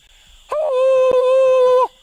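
A voice imitates a male siamang's bark phrase, a single loud, sustained tonal hoot held for over a second, then cut off cleanly, against near silence.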